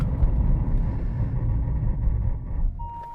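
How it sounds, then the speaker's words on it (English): A Mercedes-AMG E63 S braking hard from 70 mph: a loud, steady low road and tyre rumble that fades as the car slows to a stop, ending with a single tonal beep. "let's do a brake test from 70 miles an hour"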